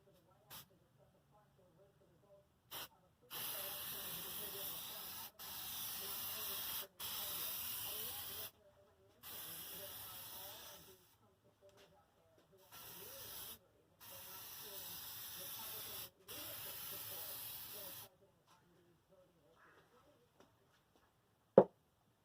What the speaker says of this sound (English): Spray it one more time.